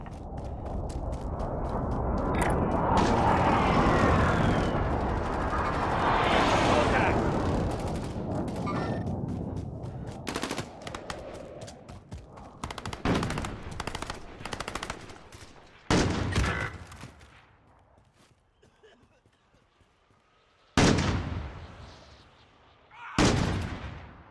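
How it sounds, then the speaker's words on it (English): Precision airstrike explosions and gunfire erupt in the Call of Duty Warzone video game: a long rumbling barrage of booms and rattling shots, loud at first, then fading into scattered sharp blasts separated by near-quiet gaps. "Allied precision airstrike incoming."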